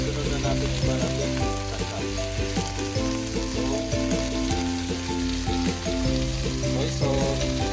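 Chicken frying in a pot for a New Year meal, a loud continuous sizzle with stirring clinks, heard under steady background music.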